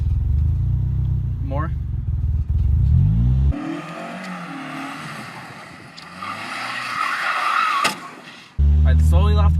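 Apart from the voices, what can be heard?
car engine revving as driver gives gas, manual clutch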